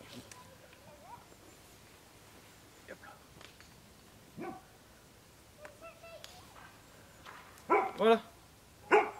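Dogs bark a few times in the distance, faint at first and then several louder barks near the end, while someone talks quietly over the scene.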